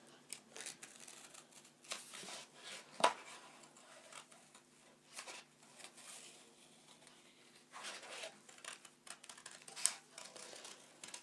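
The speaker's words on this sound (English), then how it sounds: "I'm going to cut my rabbit out with my scissors" Scissors snip through paper while a rabbit stencil is cut out, giving quiet, irregular crisp cuts and rustles with a few sharper clicks, faint and close up, with no one speaking.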